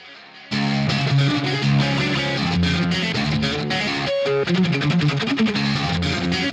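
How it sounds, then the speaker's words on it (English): Electric guitar in a mix, processed through the Archetype Nolly plugin's Plex mode emulating a classic Echoplex tape echo, with saturation at about 6 dB, plays a dense, continuous, loud passage of picked notes and chords. "And then I use the Plex mode, which emulates the classic Echo Plex."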